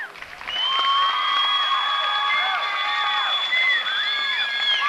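A fair crowd cheering and applauding for a dancer at the 1995 New York State Fair, loud and sustained, with high whoops and shrieks rising above steady clapping throughout.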